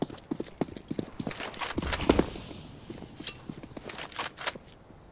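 Horse hooves clip-clop in CS:GO, a fast run of sharp, regular hoof strikes across the whole stretch at moderate loudness, with brief game noises mixed in.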